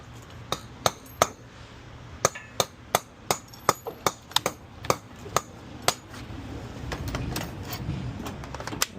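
Sharp metallic hammer strikes ring out in an uneven series, about a dozen blows, then a rougher scraping rumble takes over near the end.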